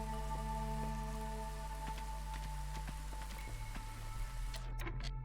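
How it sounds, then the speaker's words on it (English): Light drizzle in the city-builder game Against the Storm, a steady soft patter of rain under sustained low musical tones, faint and continuous throughout. "It is drizzle, but it will end soon"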